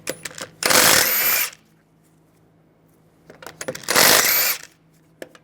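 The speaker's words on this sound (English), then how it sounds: "use a 17mm socket, take the lug bolts out" A powered driver with a 17mm socket removes lug bolts from the wheel of a 2006-2009 Mercedes-Benz E350. Two separate roughly one-second bursts of whirring are split by a quiet pause, with small metallic clinks between them.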